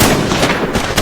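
Rapid bursts of gunfire erupt across an open field as a monster is shot at, loud and dense, with sharp overlapping reports and no voices.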